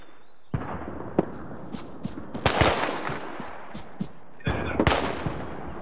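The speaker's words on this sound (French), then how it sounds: "Ça tire encore. C'est un tir sniper." Sniper rifle fire in the military shooter game Arma 3, with several sharp cracks and booming reports spread irregularly across a noisy battlefield background.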